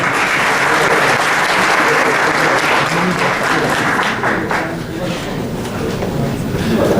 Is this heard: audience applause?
yes